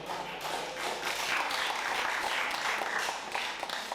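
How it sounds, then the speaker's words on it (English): A live audience at a developer relations panel session claps steadily for the panelists, a dense and continuous burst of many hands that holds at an even level from start to finish, with no talk over it. "Can we have a big round of applause?"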